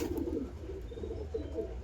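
A young carrier pigeon chick coos softly and faintly in a few low, wavering murmurs close by, with no talking.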